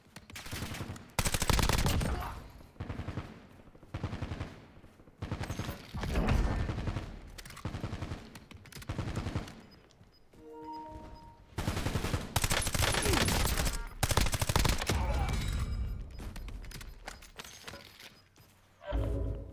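Warzone video game gunfire comes in repeated loud bursts of rapid shots, heavy volleys separated by short quieter gaps.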